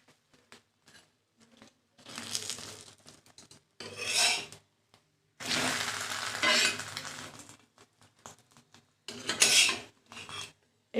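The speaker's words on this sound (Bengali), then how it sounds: "আমি রুটি বানাবো চাটুর মধ্যেই বানাচ্ছি।" Roti being turned and pressed on a hot tawa griddle, heard as repeated rough rasping, rubbing scrapes in bursts of a second or two, separated by short quiet gaps and scattered small taps, close and moderately loud with no talking.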